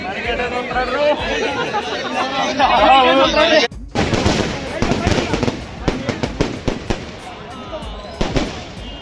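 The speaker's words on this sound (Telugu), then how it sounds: "ఇక్కడ జరిగిన బాణసంచా పేలుళ్ళు" Rapid bursts of fireworks crack and pop amid a noisy crowd at a temple festival procession, dense at first, then sharp scattered bangs continuing over steady chatter.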